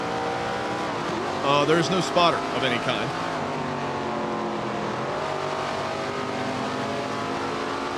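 A late model race car engine in a video game drones steadily and close, with brief tire squeals early on while someone talks over it.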